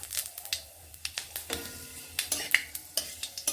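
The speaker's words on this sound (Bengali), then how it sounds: "কয়েক সেকেন্ড নেড়ে নিচ্ছি ফোড়ন" Dry red chilli and panch phoron crackle in hot oil in a kadai while a spoon stirs, giving quick sharp scrapes and clinks over a soft, faint sizzle.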